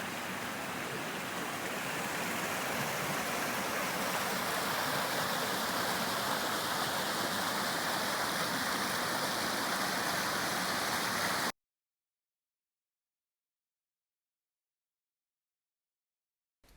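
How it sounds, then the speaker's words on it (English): A small creek flowing along a brook on a backcountry trail in Algonquin Park, a continuous close rush and babble of water that holds steady for about eleven seconds before cutting off abruptly into silence. "This little creek."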